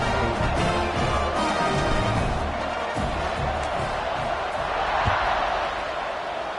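Stadium crowd cheering in a college football video game after a scoring drive and extra point, a broad sustained roar fading slightly, with occasional thuds and a commentator's voice over it.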